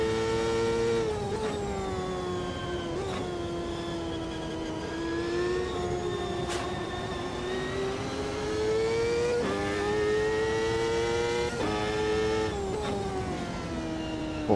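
A 1998 CART open-wheel race car engine in the Automobilista 2 racing game at Cleveland, a loud high-pitched whine rising and falling through repeated gear shifts as it accelerates steadily, continuous and without talk.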